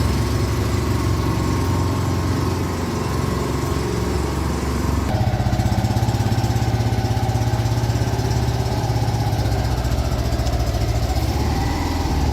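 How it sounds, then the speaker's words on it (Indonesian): Small engine of a Bajaj auto-rickshaw, a three-wheeled passenger vehicle, running steadily with a continuous buzzing drone that holds for the whole stretch, shifting slightly in pitch partway through, with no voices. "bajai adalah kendaraan roda 3 bermesin kecil yang digunakan untuk mengangkut penumpang jarak dekat"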